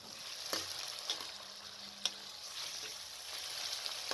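Mashed eggplant frying in oil for baingan bharta, a steady broadband sizzle with a few sharp spoon scrapes and taps against the pan, close and continuous with no talking.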